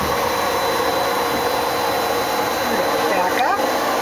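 Tsugami BS-20B Mark III CNC Swiss lathe running with its main spindle at 5,000 RPM, a steady broadband machine whir with a faint high tone, plus a brief chirp near the end.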